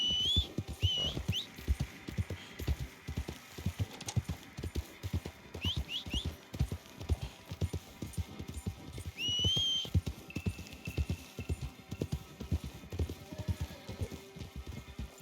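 Hooves beat in a rapid, steady gallop in Red Dead Redemption 2, close and rhythmic, with occasional whistles and bird-like chirps layered above the drumming gait.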